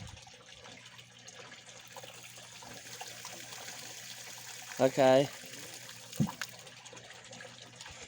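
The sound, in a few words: water being dumped out of koi filter assembly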